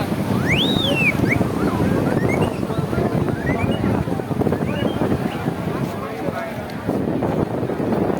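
Sea surf rolls and breaks on the crowded shore at Old Digha, a loud, constant wash mixed with wind buffeting the microphone, with voices and bird calls heard over it.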